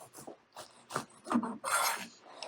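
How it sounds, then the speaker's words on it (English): A serrated knife saws crusts off finger sandwiches in short rasping strokes, close and fairly quiet, with a few brief pauses between cuts. "clean hands, serrated knife, sawing action"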